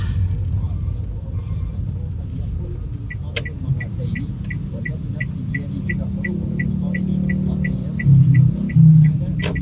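Cars rumble in a slow rush-hour traffic jam on a drizzly evening road in Ramadan, a steady low engine drone with a faint repeating beeping tone throughout and a brief louder rumble near the end.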